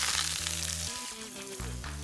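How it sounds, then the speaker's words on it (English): Red onion and sweet and sour peppers sautéing in olive oil over high heat, giving a steady, close sizzle and crackle while a low background hum runs underneath. "I'm going to sauté them"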